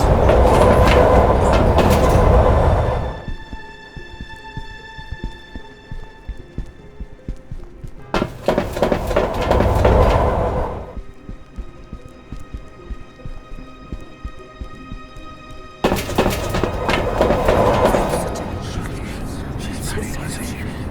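A train in an indie horror game rolls along the rails, with loud rumbling, clattering surges coming in three bursts and quieter stretches between them that hold a faint tonal hum.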